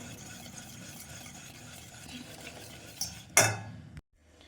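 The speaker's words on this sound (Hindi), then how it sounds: "फिर उसको भी हम इस वाले ही बोल में ट्रांसफ़र कर लेंगे और फुल मिक्स आउट कर देंगे" Melted chocolate mixture for eggless, sugar-free fudgy brownies being stirred in a bowl, a steady soft scraping swirl that ends in a louder clattering scrape against the bowl before falling silent.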